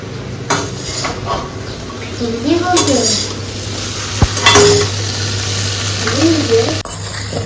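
Okra with dried fish frying in a pan gives a steady sizzle, broken by loud clanks and scrapes of a spatula against the metal, with faint voices now and then.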